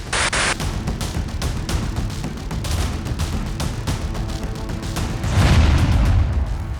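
A loud car bomb explosion outside the FSB headquarters in Moscow booms amid ongoing rumbling noise, with a deep, heavy surge of low roar near the end.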